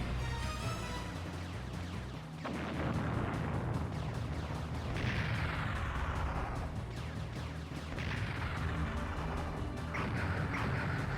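Explosions from the shoot-'em-up video game Radiant Silvergun, a dense run of crashing booms and bursts layered over the game's background music, with several heavy blasts stacking up back to back at a constant loud level.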